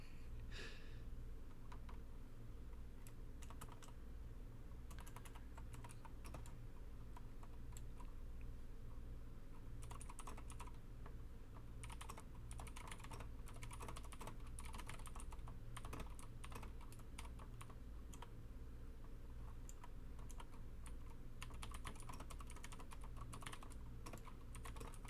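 Mechanical keyboard switches clatter in steady typing bursts, close and continuous over a low hum, with no talking.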